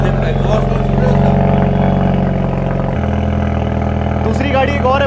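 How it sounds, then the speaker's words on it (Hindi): An aftermarket exhaust on a car with an AMG-tuned 2000cc engine revs in a loud, steady drone that drops in pitch partway through, with voices talking over it. "ये देखो एग्जॉस्ट सुन रहे हो उसका?"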